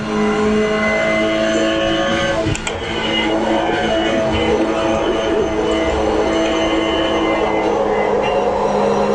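A Toyota GR race car engine in the iRacing sim racing game roars loud and steady throughout, with a brief dip in the drone partway through.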